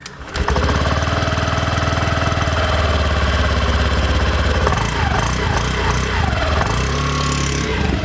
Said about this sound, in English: when we start the new Activa 6G, well, that silent start feature does give you a much and more satisfactory feel